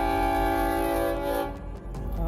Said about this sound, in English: All you hear is blast, blast, blast, blast, blast from the train horns.